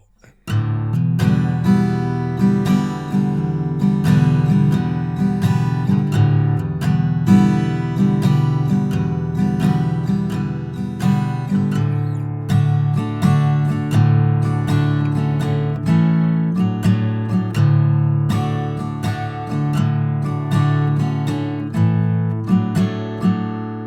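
An acoustic guitar strums the verse chords of a song in an even, steady rhythm, bright and close, played alone without voices for the whole stretch.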